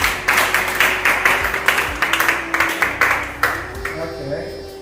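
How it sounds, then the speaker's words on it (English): An audience claps for guests at a Nightingale Nurses Association U.K. event supporting Akim Oda Hospital in Ghana, with a loud, close burst of applause made of dense, uneven hand claps that slowly thin out. "Please applaud our guests."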